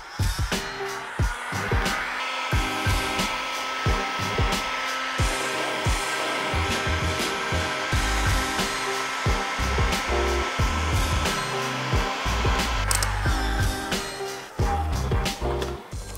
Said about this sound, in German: Jetzt gehen wir mit dem Föhn nochmal nach